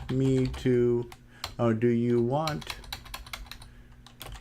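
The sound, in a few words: typing BASIC commands on a Color Computer keyboard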